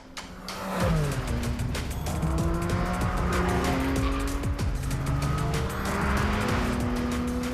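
Porsche Cayman GT4 track-focused sports car driven hard, its loud engine note climbing and dropping through gear changes with tire squeal, sustained and close.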